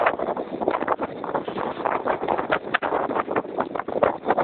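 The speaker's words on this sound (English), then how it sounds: "Wait for one of the big gusts to come through." Strong gusty wind near a pallet fence windbreak in Araluen buffets the microphone with a continuous rough, fluttering roar that swells and dips throughout, loud and close.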